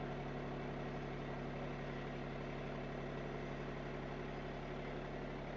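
A Bad Boy 1025 compact tractor with a backhoe attached runs at a low, steady engine drone while creeping forward slowly, one even, unbroken tone with no voices.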